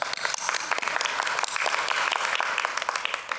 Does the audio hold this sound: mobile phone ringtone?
no